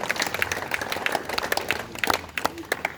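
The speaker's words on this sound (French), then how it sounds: "Applaudis comme ça, vous êtes en forme," A crowd at an outdoor village performance claps in a fairly even rhythm, the claps sharp and moderately close, continuing for about three seconds with faint background noise and no clear speech.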